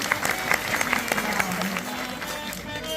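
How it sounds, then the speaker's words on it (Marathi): Applause from the audience at a Marathi kirtan, a crowd of hands clapping in an uneven patter, with a sustained tone and some voices underneath. "सर्वांसाठी मोठ्याने टाळ्या वाजवून"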